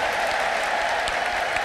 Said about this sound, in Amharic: ለጌታ ከፍ ያለ ልልታና ጭብጨባ ስጡ።